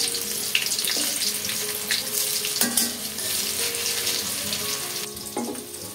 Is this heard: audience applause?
no